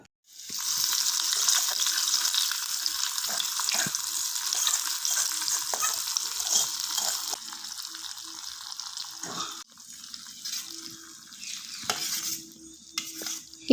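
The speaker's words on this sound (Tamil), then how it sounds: "இந்த தாளிப்பை கீரை குழம்புல சேர்த்து மிக்ஸ் பண்ணிக்கலாம்." Tempering being stirred into a spinach curry (keerai kuzhambu) in a pan, a steady close sizzle with scraping and stirring noises that ease off toward the end.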